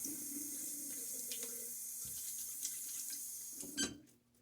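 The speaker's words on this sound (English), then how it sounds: "Now I get a little water on my face." A bathroom tap runs steadily while someone wets their face before a shave, a soft, constant stream with small splashing and a brief louder splash near the end before the flow fades.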